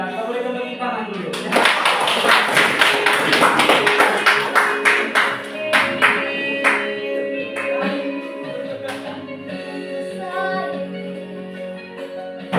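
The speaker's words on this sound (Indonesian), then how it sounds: "Ya, kita berikan tepuk tangan dulu." Audience applause at a school talent performance, a dense burst of clapping that swells in and carries for several seconds, then thins into scattered claps while voices murmur and talk alongside.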